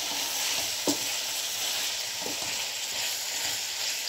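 Cauliflower and potato fry in a pan with salt as a spoon stirs them, a steady soft sizzle broken by a few sharp scraping knocks.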